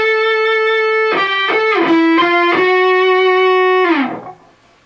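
Electric guitar melody from a song, a sustained note followed by a few sliding, picked notes that hold and then slide down as they fade, played alone with no talk.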